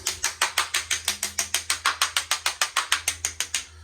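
Rapid, evenly spaced scraping rattles run across hollow-sounding floor tiles, about five strokes a second, close by and with no voices.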